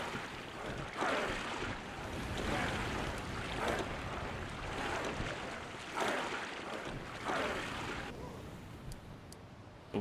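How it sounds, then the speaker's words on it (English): A Viking longship slowly crossing a calm sea in Expeditions: Viking, steady soft wash of waves and wind with gentle swells rising and falling throughout, no voices. "the waves are calm and the reaver is making slow progress"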